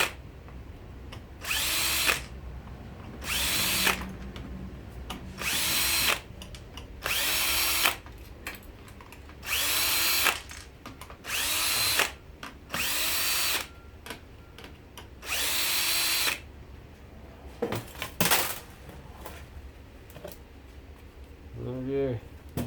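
A power drill backs screws out in a series of about ten loud, evenly spaced whirring bursts, each lasting roughly a second, separated by brief pauses, with quiet talk in between.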